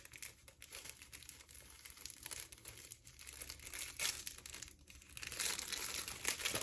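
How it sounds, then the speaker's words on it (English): Plastic wrapping peeled off a gold heart necklace from a subscription box, giving close, quiet crinkling and rustling that swells and thins in uneven bursts, with no talk. "So let's kind of get the plastic off, see if you can see it better."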